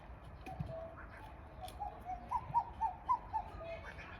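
A bird, owl-like to the listener, gives a series of soft hooting coos outdoors at a vegetable garden, rising into several louder evenly spaced calls near the end, moderately distant, with no talk.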